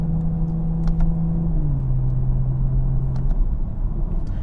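A 2022 BMW M440i coupe engine drones steadily with a low rumble, then its pitch drops partway through as the paddle-shifted transmission downshifts, heard close inside the car with no talking.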